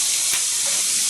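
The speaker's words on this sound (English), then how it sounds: "what it's doing is it's frying" Pork sizzles and fries steadily in a hot pan for goulash, a constant close crackling hiss with no voices over it.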